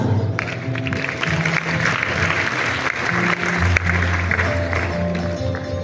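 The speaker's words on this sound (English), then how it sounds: "Sous vos applaudissements, s'il vous plaît." Applause from a conference audience at a food systems forum in Diamniadio, steady and full for several seconds, with music or a voice faintly underneath.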